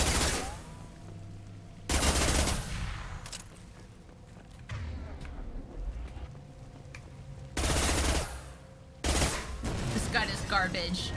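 Bursts of gunfire in Mass Effect Legendary Edition, with loud rapid volleys around two seconds in and again near eight and nine seconds, and quieter game sounds in between.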